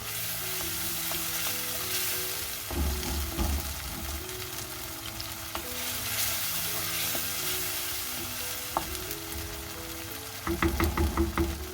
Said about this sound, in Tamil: இப்போ நல்லா குத்தி விட்டுக்கோங்க. தக்காளி எல்லாம் நல்லா அப்படியே குழைவாகணும்.